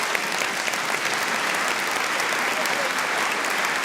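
Steady, dense audience applause fills the hall at the Mackinac Policy Conference after the governor is thanked, a broad continuous wash of many hands clapping at even loudness with no voices standing out.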